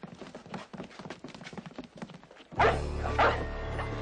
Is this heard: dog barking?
yes